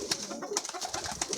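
Pigeons, including a galwa pigeon, coo close by in soft overlapping calls at a pigeon keeper's loft. The calls come as repeated pulses with no voices over them.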